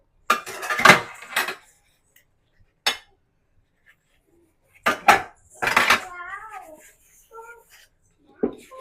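Pots and dishes clatter and clank in a few short bursts, with a person speaking between them in a quiet kitchen.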